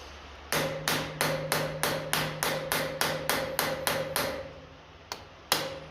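Hammer tapping on the cylinder head of a 1957 Ferguson FE35 TVO tractor, about fifteen sharp metallic blows in a steady fast rhythm, then a pause and two more strikes, close and clear with no talk.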